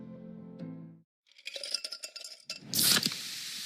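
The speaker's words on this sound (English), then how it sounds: "You hear that? That's the sound of Pepsi Zero Sugar." A Pepsi Zero Sugar cola is cracked open with a sharp hiss and fizz, then a bright pour and sparkle follows, ending in a burst of carbonation, after a short hum of background music.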